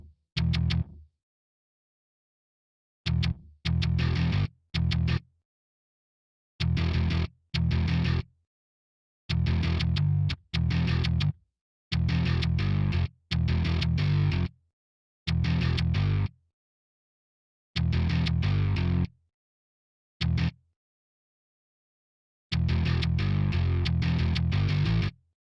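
Virtual metal guitar riff programmed in FL Studio, alternating palm-muted and sustained notes with distortion. Loud chugging bursts of varying length separated by short silences, forming a stop-start rhythm.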